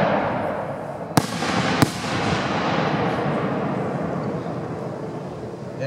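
A Vulcan 4-inch Pixie Dust Willow firework shell bursts with two sharp reports followed by a long, loud crackling hiss that slowly fades outdoors.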